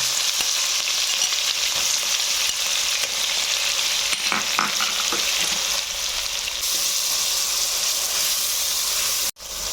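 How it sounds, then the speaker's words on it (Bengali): Chopped onion frying in hot oil, a loud continuous sizzle with stirring scrapes throughout, ending in an abrupt knock. "তেলের মধ্যেই আমি পেঁয়াজ কুচি দিয়ে দিলাম"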